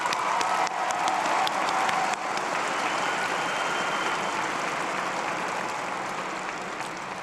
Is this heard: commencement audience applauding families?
yes